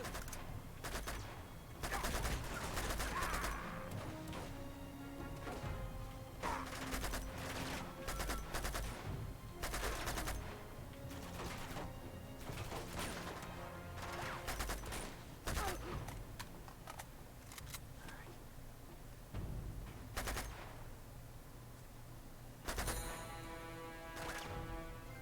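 Game gunfire from an FAL rifle in Uncharted 2, firing in repeated three-round bursts amid a dense, busy firefight with explosions and scattered impacts, loud and sustained throughout.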